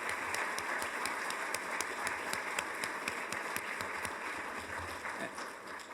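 An audience at a county address claps steadily, a sustained patter of many hands at moderate distance, fairly quiet and even, with faint voices underneath.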